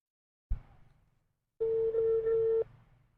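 An unanswered phone call gives one long ringback tone after a short click, clear and alone on the line.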